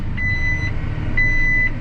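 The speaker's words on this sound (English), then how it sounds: "that thing's gonna beep at me all day long" Two long, steady electronic reversing beeps from farm machinery sound at a regular interval over a low, rumbling engine drone nearby, while planting cotton.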